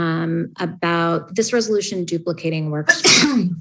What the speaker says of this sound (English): Little sneeze relief.